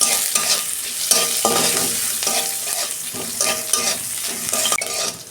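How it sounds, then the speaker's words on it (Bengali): A green chilli crackling and frying in hot oil with salt, a dense close sizzle dotted with sharp pops and stirring clatter, no voices. "এই যে একটা কাঁচা লঙ্কা ফাটতে দিয়েছি।"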